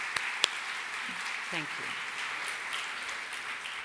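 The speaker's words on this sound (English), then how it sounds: "Please could I ask you to join me in applauding them for their dedicated service to the IAB and the success of this magnificent event." Audience applause at a digital industry summit honouring the event team, a steady wash of clapping from a large crowd, with a voice speaking briefly over it.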